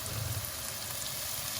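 Chopped onion frying in a pan as the base for Goan pomfret fish curry, a steady soft sizzle and crackle running continuously and evenly throughout, fairly quiet and close with no talking over it.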